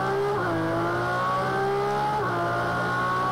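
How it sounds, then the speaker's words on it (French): A Ferrari race car engine in the video game Project Cars 2 roars loud and constant, the pitch dipping at gear changes and then climbing again under hard acceleration. "ça a un couple monumental, cette Ferrari"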